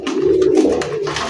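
Velvet pigeons coo close by at a pigeon seller's, low throaty rolling calls overlapping one another, loud and continuous over faint background rustle.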